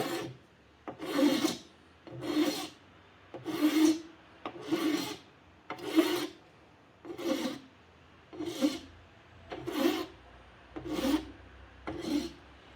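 An Anvil laminate file, used on its single-cut side, rasps across an edge in slow, even strokes, about ten rhythmic scrapes at a steady pace, close and distinct with quiet pauses between.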